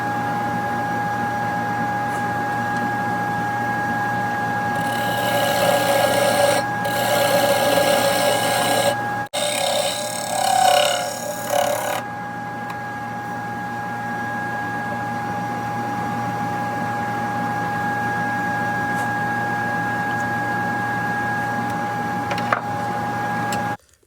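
A wood lathe turns a live-edge black walnut bowl while a square carbide-tipped tool cuts, giving a steady motor whine with rougher bursts of cutting noise between about five and twelve seconds, then a continuous hum alone.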